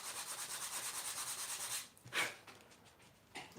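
Sandpaper rubbing on a small wooden craft piece, a steady close scratching for nearly two seconds, then a few shorter, fainter strokes after a pause.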